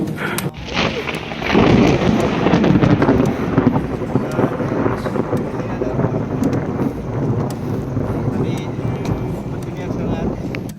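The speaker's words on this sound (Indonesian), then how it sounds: "mendengarkan petir yang menggelegar kayak gitu agak sedikit horor juga sih" Thunder rolls over an open mountain trail on Mount Cikuray. A long, loud, sustained rumble swells after a moment and keeps grumbling, with wind buffeting the microphone throughout.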